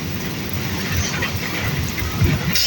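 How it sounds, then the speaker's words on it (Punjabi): Heavy rain pours steadily outdoors during a storm, a dense continuous hiss with low rumbling underneath, fairly close and without speech. "ਬਾਰਿਸ਼ ਵੀ ਦੇਖੋ ਤੁਸੀਂ ਚੰਗੀ ਤੇਜ਼"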